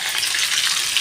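Brinjals frying in oil under a lid in a covered pan for vankaya ulli karam, giving a steady, close hiss of sizzling with no talk over it.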